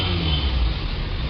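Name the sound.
Maruti Suzuki Alto car engine running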